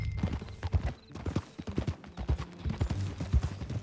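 Horse hooves clip-clop at a riding pace in Red Dead Redemption 2, a steady close rhythm of loud hoofbeats with faint creaks of tack and gear, with no talk.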